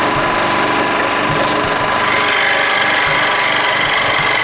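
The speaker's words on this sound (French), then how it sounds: "Tout cela, je vais le découper à la scie à chantourner, qui va me permettre de faire tous les arrondis et tout." A scroll saw cutting through pieces of wood to make a child's lamp, giving a steady, loud buzzing and rattling that runs continuously, close up and with no voices.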